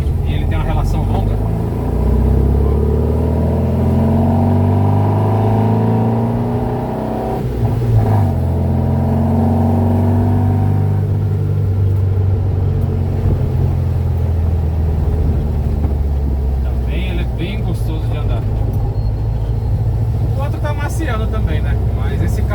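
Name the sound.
1976 Volkswagen Fusca 1600 engine revving while driving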